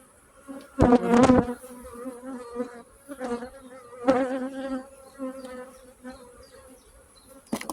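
Honeybees buzzing around an open hive on a sunny day, a dense insect drone with louder close passes near the start and at intervals, steady background hum throughout.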